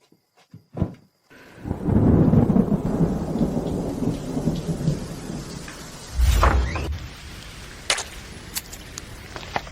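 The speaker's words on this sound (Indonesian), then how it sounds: "Kamu kehujanan deras hari ini." Heavy rain pouring down with rolling thunder, a sharp crack at the start before a dense steady downpour, then a deep thunder boom midway and scattered drips as the rain eases.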